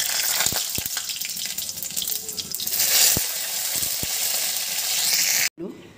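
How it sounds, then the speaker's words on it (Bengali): Whole spices (cumin, cinnamon, cracked cardamom, bay leaf and dried red chilli) hit hot oil for a flour-based tobka dish, giving a steady close sizzle punctuated by sharp pops and clinks, with a brief pause near the end. "তেলের পরে ফোড়নটা দিয়ে দিচ্ছি।"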